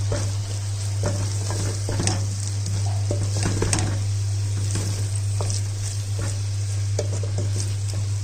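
Dry-roasted gram flour stirred into a sizzling potato curry, with continuous frying hiss and scattered scraping and tapping of a spoon in the pot, alongside a steady low hum.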